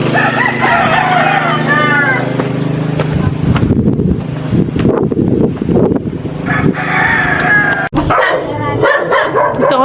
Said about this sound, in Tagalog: Sobrang daming aso.